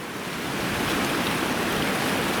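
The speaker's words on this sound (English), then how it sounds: "Enjoying the sounds of the rushing water." Steady rushing water from Bubbs Creek fills the air with a constant broadband hiss, even and unbroken.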